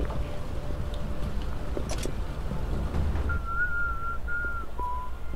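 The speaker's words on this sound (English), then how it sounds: "Stop whistling in my goddamn ear." A person whistles a few short, wavering notes close to a headset microphone during voice chat in the online game World of Tanks, over a low steady background hum.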